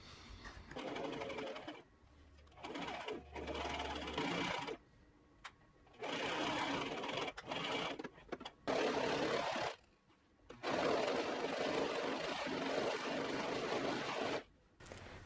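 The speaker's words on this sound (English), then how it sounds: "to the sewing machine." A sewing machine stitches cotton dress panels into a loop, running in repeated loud bursts of fast mechanical whirring separated by short quiet pauses.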